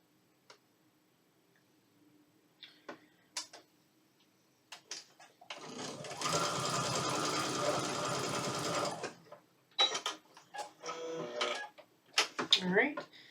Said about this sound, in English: we're going to sew these two pieces together